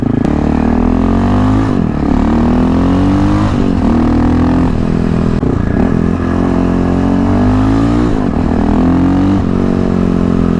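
A KTM 625SMC supermoto motorcycle rides through corners, its single-cylinder engine loud and close, rising and falling as the rider rolls off and back on the throttle and shifts through the gears, with no voices over it.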